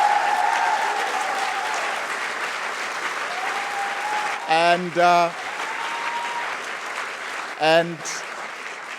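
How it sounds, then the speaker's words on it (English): Audience applause in an event hall, a steady broad wash of clapping sustained for the full stretch, with a couple of brief voice bursts cutting through near the middle and end. "I just really would like to ask all of you to give them a round of applause"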